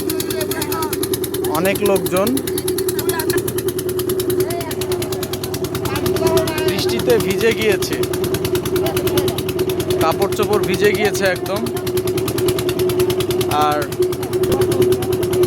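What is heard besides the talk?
engine of a motorized passenger boat on a river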